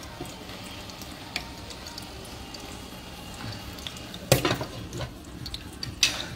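A bhaji cooking down in a pan sizzles and fries steadily at moderate level, with a few louder clinks or stirring bursts near the end.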